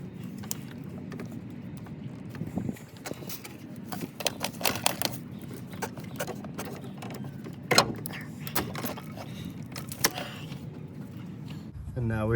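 Removing the drive belt from the alternator pulley on a 2004 Ford Explorer Sport Trac, with rubbing, scraping and scattered metallic clicks and clunks at close range while a person talks.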